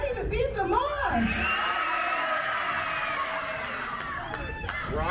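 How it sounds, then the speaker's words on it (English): A raucous pro wrestling crowd at the St. Louis Center cheers, whoops and yells continuously at close range, with a brief single voice rising above the roar near the end. "Raucous crowd here at the St. Louis Center"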